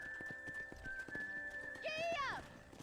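A horse in Red Dead Redemption on Nintendo Switch trots with a steady clip-clop of hooves under a sustained game tone, then gives a loud, rising whinny near the end.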